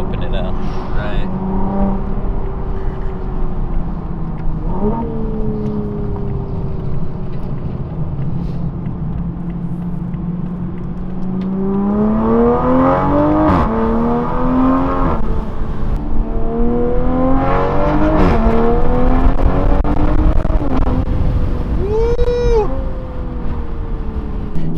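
A 2020 Toyota Supra with an FI exhaust revs and accelerates, its engine note rising in repeated sweeps and growing louder toward the end, with people talking over it.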